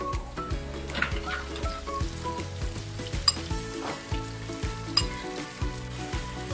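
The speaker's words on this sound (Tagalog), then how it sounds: "This one, we're just sautéing it a little bit more." Garlic, string beans and onions sauté in a pan for a tofu Bicol Express, a steady crackling sizzle with occasional stirring sounds beneath background music.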